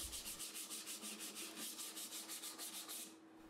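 A random orbital sander works over epoxy-filled wood on a toy pop gun, giving a steady close whirring scrape that pulses in rapid regular strokes, then stops abruptly at the end.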